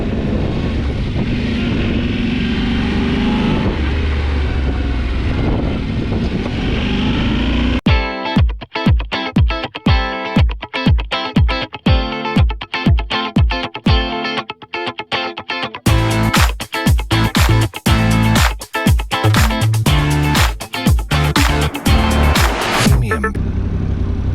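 A brand-new 2022 Yamaha Tenere 700 motorcycle, still being broken in, rides along a road: a steady loud roar of engine and wind gives way to rapid choppy, pulsing bursts that continue to the end.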